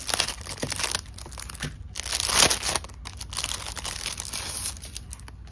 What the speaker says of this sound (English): it comes with a pack of papers and dividers